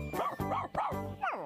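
A cartoon dog in Bob the Builder gives four quick yipping barks in a row, close and clear, with no talk around them.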